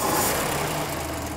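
A classic Dodge Charger engine idles smoothly and close by, a low, even rumble that keeps steady through the short stretch with no talk over it.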